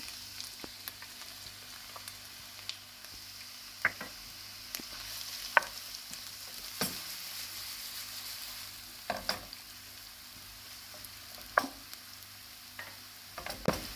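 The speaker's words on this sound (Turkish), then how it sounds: "Soğanlarımız biraz kavursun." Onions sautéing in about three tablespoons of oil in a pan for a minced-meat pide filling, a soft continuous sizzle with scattered light ticks and pops, steady and alone.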